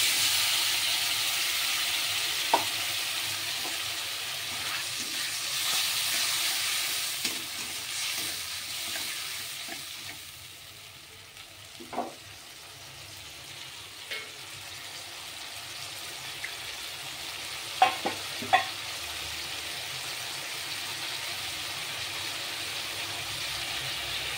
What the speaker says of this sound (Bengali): এবার দিচ্ছি পেঁয়াজ, রসুন, আদা, টমেটো, কাঁচা লঙ্কা একটা পেস্ট।